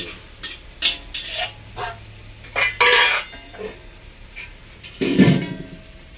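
A spatula scrapes and clanks against a wok while stir-frying tau see with bitter gourd, loud, close metallic strokes in irregular bursts with short quiet gaps and a faint sizzle underneath.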